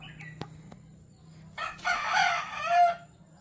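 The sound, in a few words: gamefowl roosters crowing and clucking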